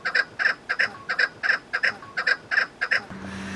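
A caged partridge on a balcony calls in a rapid, regular series of about a dozen harsh chirping notes, close and clear, before a low hum takes over.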